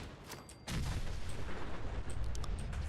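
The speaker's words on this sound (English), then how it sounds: "oh god, terrible nade toss" A grenade blast in Fallout 4 breaks out as a sudden loud boom and then a sustained rumbling roar that fills the rest of the moment, with faint higher game sounds scattered over it.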